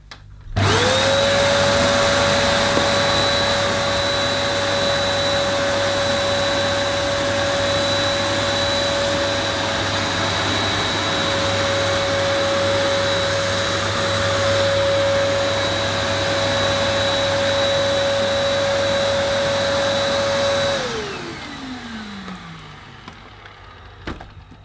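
A Dyson DC03 vacuum cleaner runs over dirt with a loud, steady motor whine and airflow roar for about twenty seconds, then spins down with a falling pitch as it switches off.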